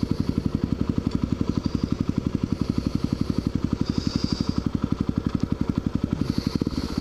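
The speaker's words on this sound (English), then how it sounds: "Little kids around here love the dirt bike." A dirt bike engine runs close by on a Lakewood, New Jersey street, with a steady rapid rumble pulsing evenly throughout and a little road noise around it.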